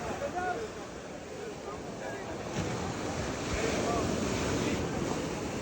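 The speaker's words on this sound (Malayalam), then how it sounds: "തിരമാല കൂടി കൂടി വരുമല്ലേ" Ocean waves surge and wash in close by, a continuous rushing roar mixed with gusty wind noise and distant voices.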